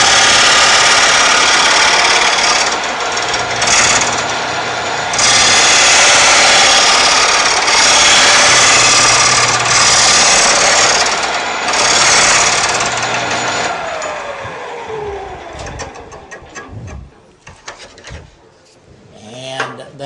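A Shopsmith SS104 sharpening a chisel gives a loud, steady grinding whine with rising and falling scraping as the blade is pressed in, then spins down and fades to quiet near the end.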